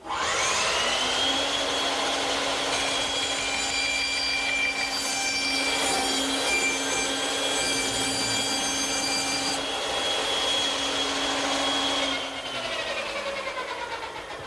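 A saw cutting a plywood blank pivoted on a circle-cutting radius pin, a loud sustained whining tone held steady for about twelve seconds before dropping as the cut ends.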